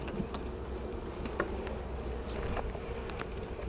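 Honey bees hum around an open hive during an inspection, a low continuous drone with individual insects buzzing past close by, and a short louder bump at the end.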